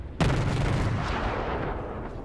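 Warship guns fire in World of Warships: one sharp, loud blast opens with a booming low report that rolls off and lingers for a couple of seconds.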